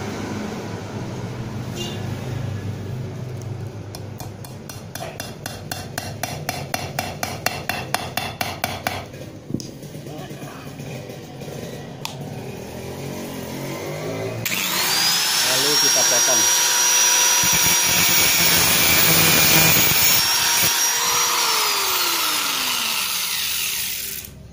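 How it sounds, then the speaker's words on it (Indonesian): A nail is cut and hammered flat into a bolt thread during repair of a stripped bolt hole in a Yamaha F1ZR piston block. Rapid metallic tapping and a rattling stretch are followed by a loud, sustained grinding or cutting whine, with speech throughout. "Setelah kita potong, kita pukul, kita ratakan dengan bautnya."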